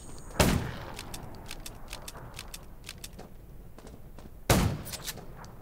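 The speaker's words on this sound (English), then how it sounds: "Gunshots will attract more zombies." Two sharp gunshots in the zombie survival video game Undawn, widely spaced and loud against a quiet ambient background, with no talking.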